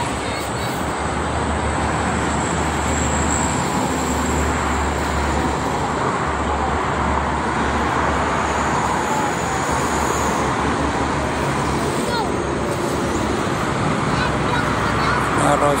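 Traffic on the Jakarta-Cikampek toll road makes a continuous, dense roadway roar with low engine rumble and tire hiss, steady and unbroken throughout.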